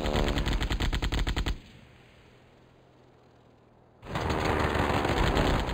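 Machine gun fire in the Sid Meier's Ace Patrol World War I air combat game, loud rapid bursts that stop for a quiet gap of a few seconds, then resume at the same pace, with no talking.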